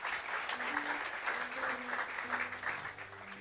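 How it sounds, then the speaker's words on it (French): A church congregation claps and cheers together in steady, dense applause that fills the space, with a few voices and faint musical tones sounding beneath it. "Acclamons pour Jésus"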